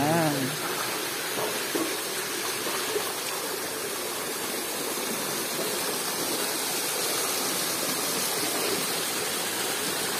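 A creek flows past a box culvert beside a concrete road, a steady rushing wash of water throughout, with a brief voice near the start.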